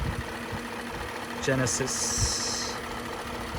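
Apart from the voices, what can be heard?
Genesis G90 5.0 V8 engine idling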